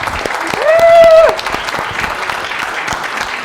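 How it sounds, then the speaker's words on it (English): Audience at a corporate conference event claps in a scattered round of applause, moderately loud, with a brief sustained tonal sound rising near the start and voices murmuring underneath. "Let's hear another round of applause for Christina on that one."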